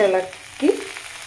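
Soya chunks stir-fried in a little oil in a pan, giving a moderate sizzle with a brief scraping stir midway, and faint voice traces at the start.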